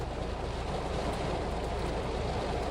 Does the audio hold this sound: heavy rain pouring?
yes